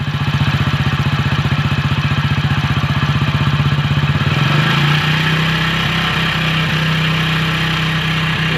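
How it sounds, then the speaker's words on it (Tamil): A motorcycle engine idles steadily during an engine flush, close and loud with an even low rhythmic thrum that smooths out partway through, with no talking. "ஒரு 5 நிமிஷம் இல்லை ஒரு 3 நிமிஷம் வண்டி அப்படியே ஹைட்டிங்கில் வண்டி ஓட விடுங்க"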